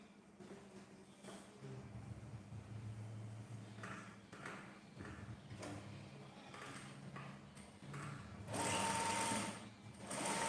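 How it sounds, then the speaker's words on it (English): An electric sewing machine stitching a suit sleeve runs in steady bursts with short pauses between them, close and fairly loud, with a brighter whir near the end. "Then you are going to sew till you can move inside further."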